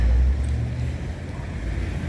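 A car passes on the street, its low rumble loud at first and then fading, with steady traffic noise behind it and no voices.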